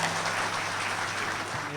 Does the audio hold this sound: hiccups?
no